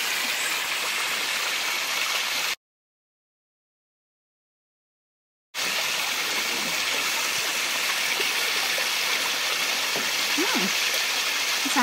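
Steady rushing of spring water flowing from a rock and splashing close by, a continuous broadband wash that cuts out briefly to silence and then resumes.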